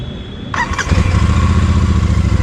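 The engine of a Royal Enfield Super Meteor 650 motorcycle cranks briefly and catches, settling into a loud, steady, close-up idle thump that continues to the end.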